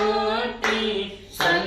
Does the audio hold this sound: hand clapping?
yes